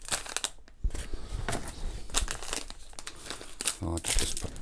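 Paper packaging is crumpled and crinkled up close in a dense run of crackling bursts, with speech faintly mixed in.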